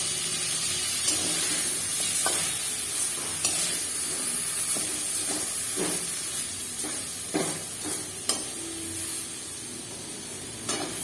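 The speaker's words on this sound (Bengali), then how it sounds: "বেগুনটাও ঠিক একইভাবে ভেজে নিলাম" Eggplant pieces frying lightly in oil in a pan for Bengali shukto, a steady close sizzle with occasional stirring and spattering crackles, no one talking.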